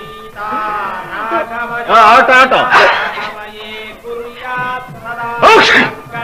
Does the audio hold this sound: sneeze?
yes